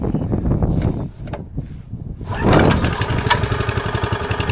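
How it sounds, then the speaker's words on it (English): A small engine on an auction machine with 113 hours, choke set and fuel on, cranks with rough knocking bursts, then catches and settles into a loud steady buzzing run with a fast even pulse. "Alright, so the choke is open, the engine is running."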